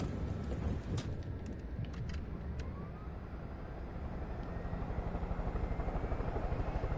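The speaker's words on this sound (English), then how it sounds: "Oh, but it does have a helicopter" Helicopter in the video game Far Cry 5: a steady, loud rotor and engine drone with low thumping throughout, building slightly toward the end, with no talk.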